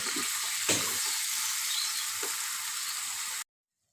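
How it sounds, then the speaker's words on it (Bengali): Masala spices fry in oil in a pan as the paste is cooked down, a steady close sizzle with a couple of faint stirring scrapes, alone and without talk, then it cuts off abruptly. "আমার মশলা কষানো হয়ে গেছে, সাইড থেকে তেল ছেড়ে দিচ্ছে"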